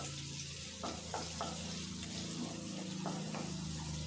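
Slices of a medium onion fry in oil for street-style fried rice, giving a quiet, steady sizzle with a few soft scrapes and bubbling, close and without talk.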